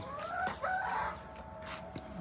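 Desi chickens cluck and a rooster crows nearby, with repeated bright calls rising over a steady farmyard background.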